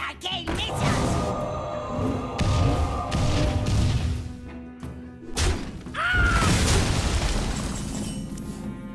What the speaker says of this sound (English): I cast arcane missiles.